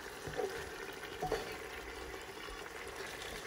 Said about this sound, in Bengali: এটা আমি এখন চিকেনটা কষাতে থাকব।